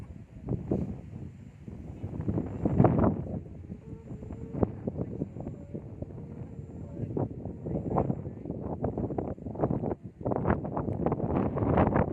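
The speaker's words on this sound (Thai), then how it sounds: "โอ้ยลม" Strong gusting wind buffets the microphone outdoors, a continuous low roar with repeated louder gusts, and a voice talks intermittently over it.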